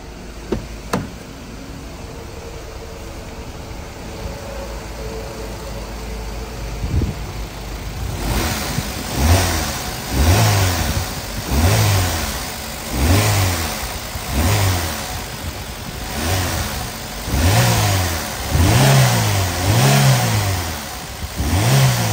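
A 2012 Chevrolet Cruze LTZ with a knocking engine is revved repeatedly, a loud close roar rising and falling in about eight regular pulses after a quieter idle, with a rough clattering knock underneath.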